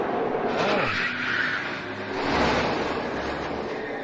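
A NASCAR stock car wrecking at Talladega during the Geico 500: a broad roaring rush of engines and skidding tires with a sweeping, rising-and-falling wash of noise, heard from a distance amid race-crowd ambience.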